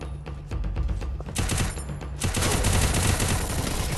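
Gunfire in the video game Garena Free Fire: dense bursts of rapid shots with a sharp burst near the start and heavier sustained firing building over the last two seconds, loud and close with no talk.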